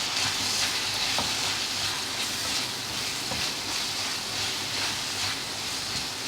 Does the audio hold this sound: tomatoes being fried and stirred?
yes